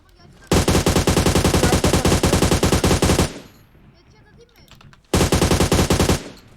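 Rapid automatic gunfire in the PUBG Mobile battle royale game, a long sustained burst of loud shots followed after a short pause by a second, shorter burst, with faint background noise between.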